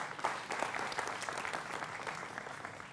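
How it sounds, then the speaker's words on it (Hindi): A studio audience applauds steadily to welcome panel guests on a Hindi political talk show about the Jammu and Kashmir elections, a dense, even wash of many hands clapping close up, with no break. "जोरदार तालियों के साथ उनका अभिनंदन है"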